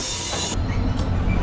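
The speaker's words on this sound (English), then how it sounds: "taking the train southbound down to Sand Lake" SunRail commuter train running southbound toward Sand Lake, a steady rumbling roll of rail cars heard close up, with a bright hiss that cuts off partway through and a brief burst of noise later.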